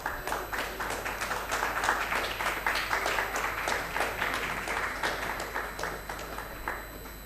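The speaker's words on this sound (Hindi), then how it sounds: "तालियां बजती रहनी चाहिए ladies and gentleman, louder applause" An audience applauds an award winner on stage at a peace award ceremony, sustained dense clapping throughout with a steady hum underneath.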